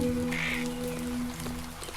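Steady rain pours down in a video game level, a continuous hiss of falling drops over a low droning hum, with no breaks.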